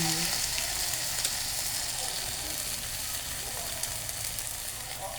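Dried anchovies (dilis) and egg fry together in a pan for a torta, with a steady, dense sizzle and crackle close by and a few faint scraping clicks.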